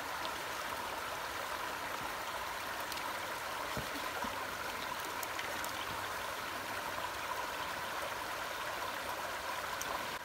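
River water flows steadily past a beaver dam in the Ontario autumn wilderness, a quiet continuous rushing and trickling with no talk.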